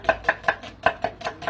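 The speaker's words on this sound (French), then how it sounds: "Donc là on va émincer les oignons." A knife slicing onions on a board in quick, even strokes, about five per second, crisp and close, with no talk.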